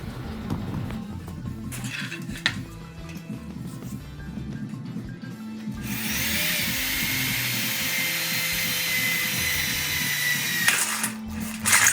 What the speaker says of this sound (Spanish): vamos a proceder a hacer unas perforaciones pasantes con ayuda de esta broca cónica